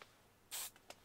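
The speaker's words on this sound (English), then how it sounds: "I think I might use a bit of WD-40, actually. You know what, I'll spray a bit on now," A WD-40 aerosol can gives a short spray burst, followed by a couple of faint brief puffs, close and alone in a quiet room.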